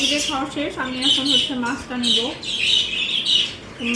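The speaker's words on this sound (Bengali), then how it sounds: "পাখিগুলো কি কিচিরমিচির করতেছে" Birds squawk and chirp in short, repeated bursts of rising and falling calls, fairly close and lively, with brief pauses between the calls.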